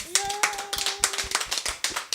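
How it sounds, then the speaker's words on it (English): A women's audience at a monthly book event claps in a brief burst of applause, dense overlapping hand claps close by with a few sharper individual claps, a voice briefly sounding beneath the start. "Ladies, give yourselves a round of applause."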